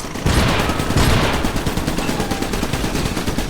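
Rapid automatic gunfire and overlapping shots from the Xbox video game Iron Brigade, loud and continuous, with dense bursts throughout.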